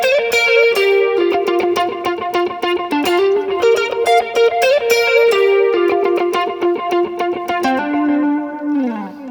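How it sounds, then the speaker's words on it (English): A lead electric guitar with chorus, boost and compressor plays a bright, continuous melodic line of picked notes, loud and upfront, ending on a sliding note, with no voices. "I add some chorus for this sound and either a boost, maybe I'll add a compressor just to help it pop out of the mix a little bit"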